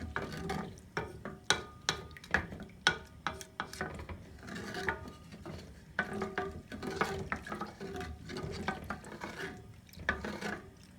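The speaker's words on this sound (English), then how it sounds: "we're going to put this on the stove, and we're going to stir it and cook it for 3 to 4 minutes until the salt dissolves" Spoon stirring salted pickle brine in a pot on the stove, a steady run of scraping, clinking strokes against the pot that sound close and even, with no talk over them.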